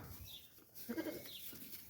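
A bottle-raised goat bleats once in a short, wavering cry, fairly close, over faint background noise.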